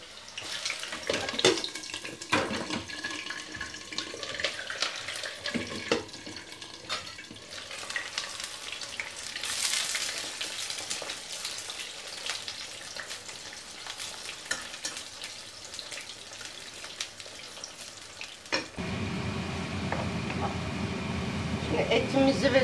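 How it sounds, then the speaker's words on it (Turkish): Eggplant slices sizzle in a pan, a steady frying hiss with stirring and clatter, followed near the end by a rush of running water, with no talk heard. "Çok az kızartacağım."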